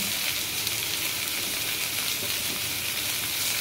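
Curry leaves and chopped green chilli fry with cabbage in hot oil, giving a loud, steady sizzle that stays even and unbroken throughout.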